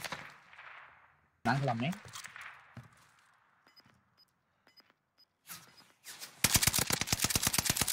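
Gunfire in the Warzone video game: a loud, rapid burst of automatic fire near the end, preceded by a single sharp shot and scattered quieter game sounds, with a player talking over parts.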